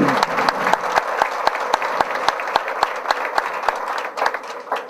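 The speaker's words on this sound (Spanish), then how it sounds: "Un aplauso, por favor," An audience at an Immunotec business opportunity meeting claps in sustained applause, a dense, steady patter of many hands with sharp individual claps standing out, continuing for several seconds without talk.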